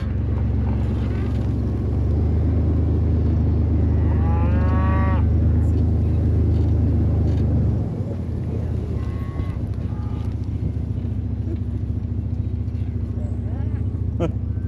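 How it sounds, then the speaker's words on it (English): Cattle and calves mooing on a South Dakota ranch, several low drawn-out calls near and at middle distance over steady wind and engine rumble, with a person talking at times. "That's another cute gilly calf."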